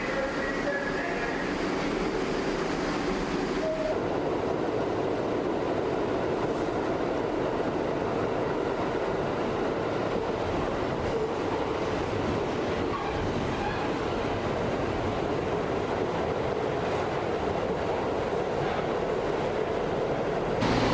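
A New York 1 line subway car riding through Washington Heights, Manhattan, with a steady, loud rumbling roar of wheels and rails heard from inside, a brief squeal early on, and continuous rattling throughout.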